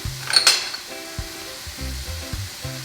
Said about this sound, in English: break minced pork to be crumbled and consistently stir until pork mince cooked